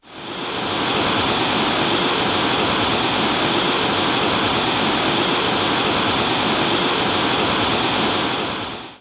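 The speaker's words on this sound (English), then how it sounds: "the loud sound of the water coming through the dam gates" Water roars through the dam gates on the Jordan River in Utah, a loud, steady, close rush of white noise that stays constant throughout with no breaks or other sounds.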